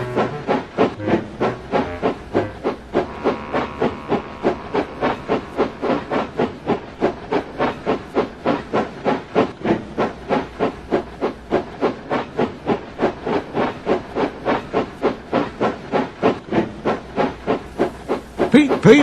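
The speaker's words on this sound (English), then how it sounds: "Peep, peep, I whistled." A very old narrow-gauge steam engine chuffing in a fast, even rhythm, each puff of steam hissing sharply, with a brief whistle-like rise near the end.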